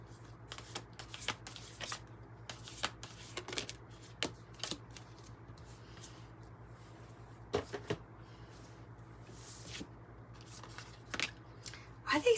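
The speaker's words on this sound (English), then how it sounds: "No matter how much I shuffle" A tarot deck is shuffled in repeated quick riffles and card flutters, close and crisp, coming in bursts with short pauses between them over a faint background hum.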